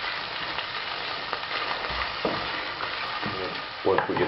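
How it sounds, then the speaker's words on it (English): Raw meat and salami browning in bacon fat in a pan, a steady close sizzle with occasional stirring scrapes and a louder crackle of spatter near the end. "I'm going to put in this raw meat and salami, all the lean meat, and I'm going to cook that in the bacon fat for a few minutes."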